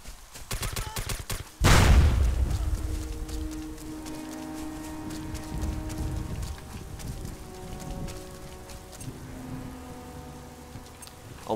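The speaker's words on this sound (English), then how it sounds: "What's that explosions that I hear?" Explosions and gunfire in the video game SOCOM US Navy SEALs: a sudden loud blast followed by a long rumbling decay, scattered shots and rattling bursts, and a sustained tone underneath.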